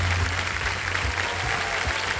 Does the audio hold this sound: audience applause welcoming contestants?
yes